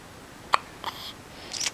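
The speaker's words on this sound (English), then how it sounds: "You got the hiccups again." A newborn baby, about eight days old, hiccups close up, one sharp small hiccup followed by softer little catches and breaths.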